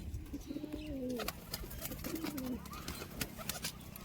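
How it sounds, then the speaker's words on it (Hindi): A Rampuri pigeon cooing close by, two soft descending coos in the first few seconds over faint background noise, with no one speaking. "ये रामपुरी कबूतर है।"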